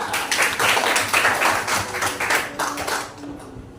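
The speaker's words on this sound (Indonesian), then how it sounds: "ya kasih tepuk tangan buat dia" An audience at a classroom session claps for a teacher, a burst of scattered close hand claps that thins out and fades near the end.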